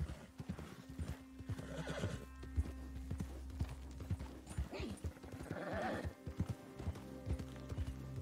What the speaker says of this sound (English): What I will do is I will ride carefully with my horse as well.